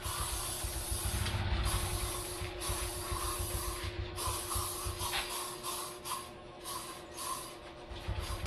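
An aerosol or pump spray hissing in repeated bursts onto a body and top box, close and loud, each spurt separated by brief gaps over a steady low hum.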